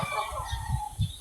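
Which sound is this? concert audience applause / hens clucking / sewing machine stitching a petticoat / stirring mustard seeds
hens clucking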